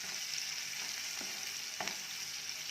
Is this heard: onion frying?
yes